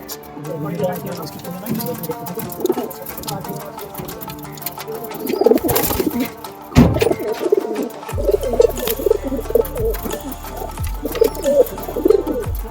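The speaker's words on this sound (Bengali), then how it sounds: "এখানে সব কবুতর দেখতে পাচ্ছি, বেশিরভাগ কবুতরই আজকে ছেলে থাকছে" High-flyer pigeons of mixed breeds, including Teddy, Golden, Chinese and Allahabadi, coo and rustle irregularly in a loft, with scattered wing and foot noises and some background commotion.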